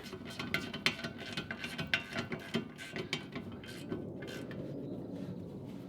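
A ratchet clicks in quick, uneven bursts while snugging bolts on the disc brakes of a 1965 Ford Mustang during a drum-to-disc conversion, close and clear at first, then fading into a steadier mechanical hum.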